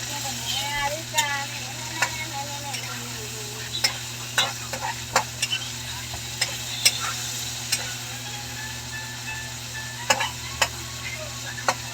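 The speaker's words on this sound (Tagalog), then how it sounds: "Hintayin ko lang parang maprito-prito ng slice yung chicken." Sliced chicken sizzles steadily in a hot pan, with occasional sharp clinks and scrapes of a utensil stirring, close and moderately loud.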